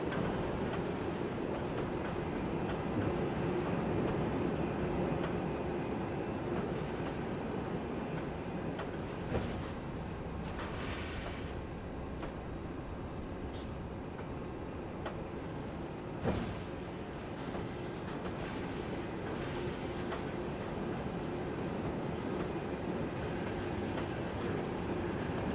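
A passenger train runs steadily on its approach to the terminal, with a continuous low rumble and rolling rail noise plus a few sharp clicks and brief squeals from the wheels.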